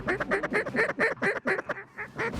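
Mallard ducks on bottomland water quack in a loud, close run of rapid calls, about a dozen harsh notes in quick rhythm that stutter and trail off at the end.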